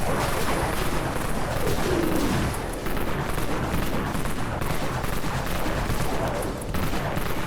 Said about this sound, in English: So it looks like it sounds like it's shooting twice, like burst.